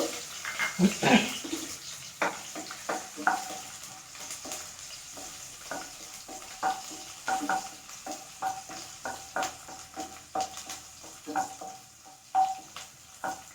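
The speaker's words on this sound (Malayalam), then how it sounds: "അതിലേക്ക് ഞാൻ വെളിച്ചെണ്ണ ഒഴിച്ചു കൊടുത്തിട്ടുണ്ട് കേട്ടോ അതിലേക്ക് നമുക്ക് ഈ വെളുത്തുള്ളി അങ്ങോട്ട് ഇട്ട് കൊടുക്കാം" Garlic fries in coconut oil in a pan, a soft sizzle broken by repeated close stirring scrapes and clinks in an uneven rhythm, with no talking.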